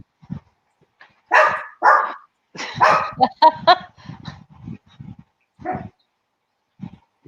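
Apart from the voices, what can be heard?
dogs barking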